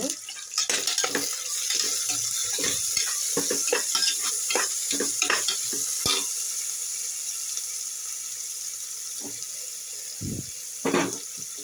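Ginger garlic paste sizzles in a pan while a spoon scrapes and stirs in quick repeated strokes, busy at first, then easing to a quieter fry with a few late clanks.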